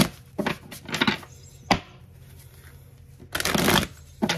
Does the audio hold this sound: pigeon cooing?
no